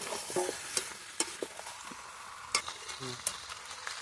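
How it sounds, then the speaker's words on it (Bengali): Mutton and potatoes fry and get stirred in oil in a pot during village-style cooking, a steady sizzle with scattered scraping and clinking of a spoon against the pan, close and fairly quiet. "এটা মটনটা দেখো তেল ছেড়েই গেছে এর মধ্যে আমি আলুগুলো দিয়ে আর একটু কষে নেবো"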